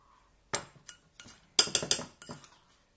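A spoon stirs speculoos biscuit crumbs and butter together in a bowl, giving several short, close clinks and scrapes in uneven bursts, with quiet pauses between them.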